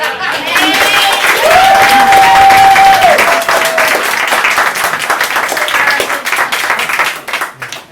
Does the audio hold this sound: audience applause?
yes